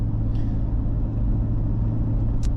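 A Jeep Cherokee XJ with a 4-liter inline-six climbing hills on a twisty road, a steady loud low engine rumble heard from inside the cabin, continuous and even throughout.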